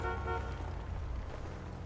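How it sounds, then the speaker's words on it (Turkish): A car horn in the video game GTA 5 sounds in a steady, sustained blare over a low engine rumble, fairly loud and close, with no talking. "Korna çaldın arkadan"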